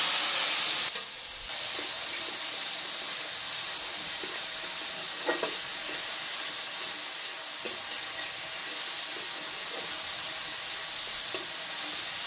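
A blended spice paste thinned with hot water goes into hot frying oil, giving a loud, steady sizzle and hiss throughout, with occasional spoon clicks and no talking.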